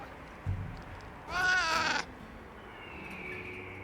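A cat companion in the video game Monster Hunter Wilds gives a single drawn-out meow, loud and close, after a faint soft thump, with quiet ambient game sound around it.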